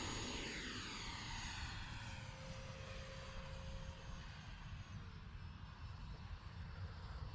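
Freewing F-22 64mm 4S electric ducted-fan RC jet making a fly-by, a steady loud fan whine with Doppler sweeps as it passes close and then holds a continuous roar overhead, with wind noise underneath.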